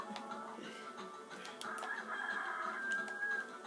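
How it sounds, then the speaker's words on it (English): A rooster crows in the 102 Dalmatians video game, one drawn-out cock-a-doodle-doo rising over a faint game backdrop, with scattered clucking. "we're gonna hear that rooster crow every time you get a hen in"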